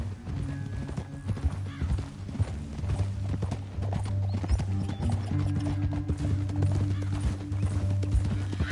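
Horses gallop in Red Dead Redemption 2, rapid clip-clop hoofbeats close up with occasional neighs over a low steady musical drone.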